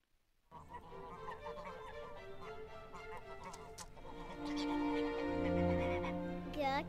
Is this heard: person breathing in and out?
no